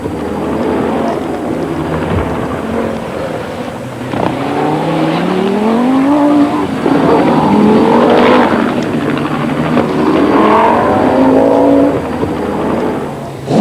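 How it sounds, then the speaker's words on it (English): A turbocharged Audi Quattro rally car on the RAC Rally roars past, its engine note rising and falling through gear changes, loud and close, with a strong surge in the middle before easing off. "This is the second Audi Quattro, driven by Michel Mouton, lying in 5th place and having a brilliant drive."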